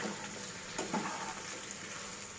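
A chicken curry with potatoes is sautéed until nearly dry, giving a soft, steady sizzle at moderate distance with a couple of faint stirring scrapes.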